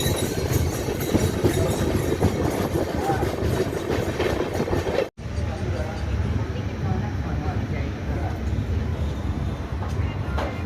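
The 12333 Howrah–Prayagraj Vibhuti Superfast Express rumbles steadily at Panagarh station platform 2, with a continuous low roar and faint rhythmic clatter, briefly cut off midway, with muffled voices underneath.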